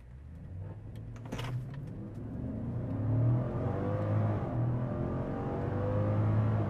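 A 2000s-era Infiniti FX50 with a 5.0 V8 pulls away under hard throttle, heard from inside the cabin: a steady, rising engine drone and whir builds over several seconds after a brief window-motor sound, with no talk.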